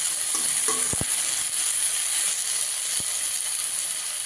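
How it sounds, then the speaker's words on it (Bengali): Bok flowers frying in a pan give a steady broadband sizzle throughout, with a few sharp utensil clicks and scrapes from stirring near the start and one more a few seconds later. "বারে বারে এইভাবে নাড়া দিয়ে দিয়ে ভেজে নেব ভালো করে।"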